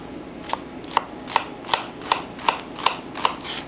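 A knife chops through an onion on a cutting board in eight evenly spaced, crisp knocks about half a second apart, close and clear with no talking.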